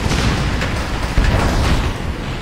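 A destroyed anti-aircraft gun explodes in a combat flight video game, a dense, continuous rumbling boom with crackling bursts and no speech.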